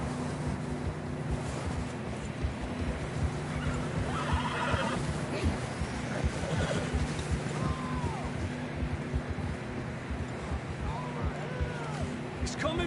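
Horses whinny and neigh repeatedly in Red Dead Redemption 2, set against steady hoof clatter and a constant rushing, surf-like ambience, with voices talking at moments.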